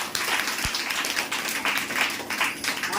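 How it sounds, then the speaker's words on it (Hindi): Congregation applause at a Hindi church service, steady overlapping clapping that carries through evenly with a single low thump early on. "ताली बजाइए प्रभु के लिए"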